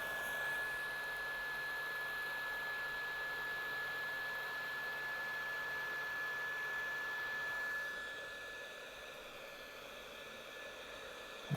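A hot air blower heats a black heat-shrink sleeve on a Sega or Nintendo console cable, giving a steady, loud breathy rush that holds evenly, then drops slightly in level and tone near the end.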